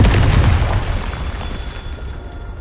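A Confringo fire-blast spell from Hogwarts Legacy detonates in a loud, close booming explosion that starts hard and then rumbles away over a couple of seconds, with no voices over it.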